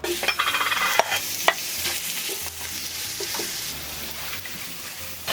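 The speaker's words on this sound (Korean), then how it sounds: "볶을 때는 이렇게 들기름 조금, 가열 요리용 올리브 오일 살짝 해가지고 볶으시면 됩니다." Meat sizzles in perilla and olive oil in an uncoated stainless steel pot while a utensil stirs and scrapes, with a few sharp clinks over a steady frying hiss.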